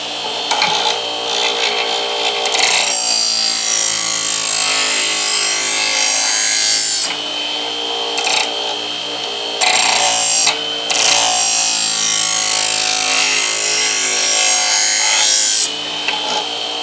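A knife is ground on a DIY budget knife sharpener in long continuous rasping passes that stop briefly several times, loud and close with no one talking.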